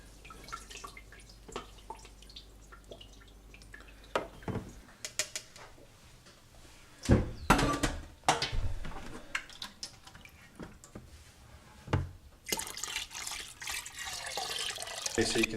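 Blueberry wine juice drips and trickles through a strainer into a container, with irregular splashy bursts, scattered soft drops and a steadier pour near the end, a voice talking intermittently.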